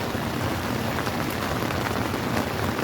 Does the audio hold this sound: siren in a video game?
no